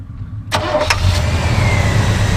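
A 1978 Chevy Cheyenne pickup with a 350 V8 cranks briefly and fires up, then settles into a loud, rumbling idle heard up close with no talking.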